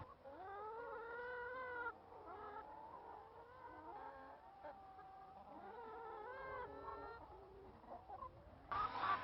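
Free-range laying hens cluck and murmur together inside a chicken shed, a dense, busy flock chorus with rising calls over a low background hum.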